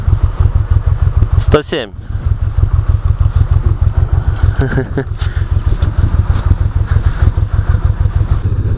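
A Honda VTX motorcycle engine thrums in a steady, loud, low pulsing rhythm while riding on a New Year's Day ride, with brief speech and a short whistle-like sweep over the engine.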